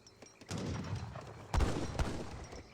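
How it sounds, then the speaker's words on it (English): Sharpshooters in Age of Empires 3 fire rifles during a battle between US and French armies, sharp repeated shots cracking over a dense, continuous rumble of combat with heavier thumps standing out. "Sharpshooters firing away"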